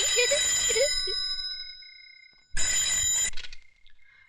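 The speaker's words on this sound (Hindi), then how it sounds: "लो भैया, बज गई आपकी घंटी।" An old-style telephone bell rings twice, two loud metallic bursts separated by a pause, with a faint tonal hum lingering afterward.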